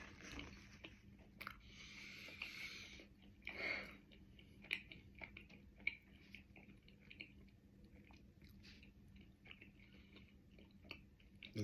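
Someone chews a bite of spicy garlic chicken wings, with close, wet, squishy mastication and soft crunches that continue steadily and quietly throughout, no talking.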